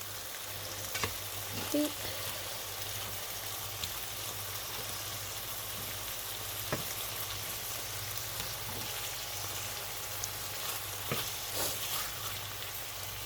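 Chicken breast fries in a pan over medium-high heat, giving a steady, moderately quiet sizzle that runs throughout, with a few soft stirring knocks and one brief spoken word.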